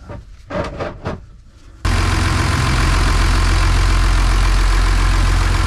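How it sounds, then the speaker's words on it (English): A Bayliner 3888 boat engine starts up and runs steadily, loud and close, with a dense low rumble and the rush of raw cooling water spilling from the exhaust. The sound continues without break to the end. "There's the water coming out of the exhaust."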